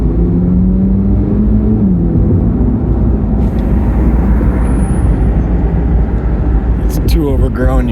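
A big, long train passes fast nearby, a loud, steady rumble and roar filling the whole stretch without a break, with a brief voice near the end.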